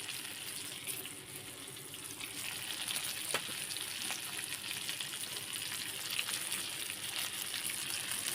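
Dataali fish fries in a pan with a soft, continuous sizzle that stays even and fairly quiet throughout, with a few faint clicks and no talking.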